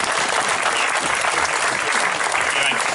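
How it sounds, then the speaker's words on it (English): A crowd at a homecoming celebration for boxers breaks into loud, sustained applause, dense clapping filling the whole stretch without pause. "both families need a big round of applause for the support"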